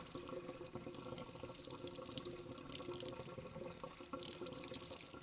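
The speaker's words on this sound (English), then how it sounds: "So give it a good wash and take off all the dirt from inside." A crab shell is rinsed under a running tap during preparation for a Sri Lankan crab curry, producing a continuous close splashing rush of water that stays even throughout.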